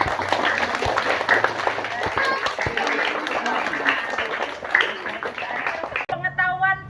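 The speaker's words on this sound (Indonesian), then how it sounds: "Tepuk tangan." A crowd claps at an elementary school award ceremony in Indonesia. The applause is dense and sustained, with voices mixed in, and a voice briefly rises above the clapping near the end.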